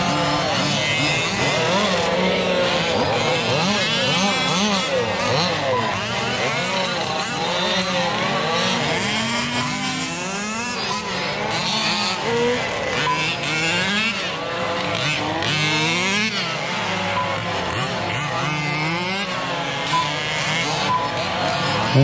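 Radio-controlled Losi and Baja off-road cars racing in an open class qualifier at a park, their small engines whining loud and close with constant rising and falling revs as they pass, throughout the clip.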